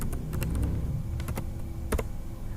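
Close keystrokes tap out an SQL command on a computer keyboard in scattered, uneven clusters of clicks over a steady low background hum, with no speech.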